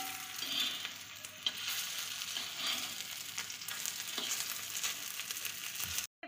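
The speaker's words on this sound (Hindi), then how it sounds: "इस तरीके से हम इसको फ्राई कर लेंगे तवे पे" Shaped kebabs frying on a flat tawa griddle, a steady close sizzle and crackle of oil that carries on without a break, with no talking.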